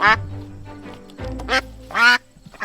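Ducks quack nearby in a few loud, raspy bursts separated by short pauses, clear and close at hand.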